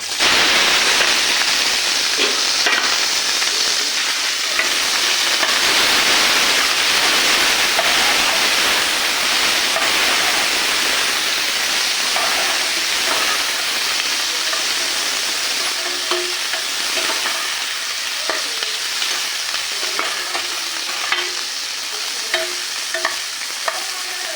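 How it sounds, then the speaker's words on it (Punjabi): Vegetables dropped into hot oil sizzle loudly and continuously at close range, a dense bright hiss that eases slightly over time, with faint scrapes of stirring near the end. "ਤੇਲ ਗਰਮ ਹੋ ਚੁੱਕਿਆ ਤੇ ਹੁਣ ਆਪਾਂ ਇਹਦੇ ਵਿੱਚ ਐਡ ਕਰਾਂਗੇ ਸਬਜ਼ੀਆਂ"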